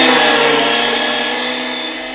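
An electric meat grinder minces meat for döner bratwurst, running with a loud, steady motor whine and grinding drone for about two seconds, close up and alone, tapering slightly toward the end.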